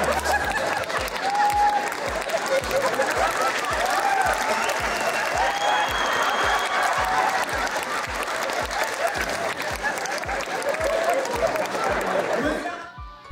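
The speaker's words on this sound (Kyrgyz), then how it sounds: "Бештапан Кудулдар тоонунун көрөрмандары айттырбай кол чаап жатышты" A concert crowd at a show by the Beshtapan comedy troupe keeps up loud, sustained applause that falls into a steady rhythmic clap, with scattered laughter and chatter mixed in, before it fades at the end.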